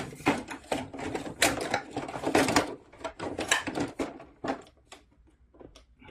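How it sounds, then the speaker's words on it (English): Plastic clicks, snaps and rattles sound up close as the front cover and power connector of an air conditioner indoor unit go back on during a fan motor bearing repair, coming in irregular bursts that thin out toward the end. "Install the front cover along with the power connector."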